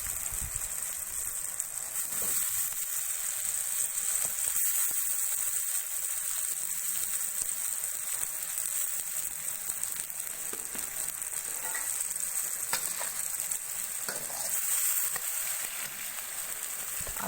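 Potatoes and green chillies fry in a pan for a karela aloo curry with a steady, dense sizzle and crackle that runs throughout, briefly swelling at moments, with no voices.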